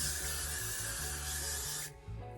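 Hair spray hisses from an aerosol can onto a straight 13x4 lace frontal wig in one continuous close, loud spray over a low rhythmic background beat, cutting off near the end.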